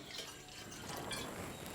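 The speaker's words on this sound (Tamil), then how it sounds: "இந்த மாதிரி ஒரு பாத்திரம் வச்சுட்டு அதில் வந்து ஒரு 2 லிட்டர் தண்ணி சேர்த்துக்கலாம்." Water splashes and trickles steadily into a cooking pot, about 2 litres, a continuous running pour with no voices.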